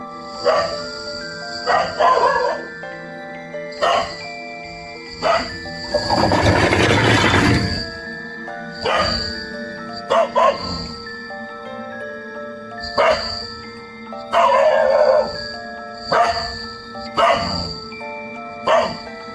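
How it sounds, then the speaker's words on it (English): A neighbour's pet dog barks aggressively in repeated sharp bursts at night, loud and close, with pauses between volleys and a rushing noise partway through. "His neighbor's pet dog suddenly came in front of his house and started barking aggressively"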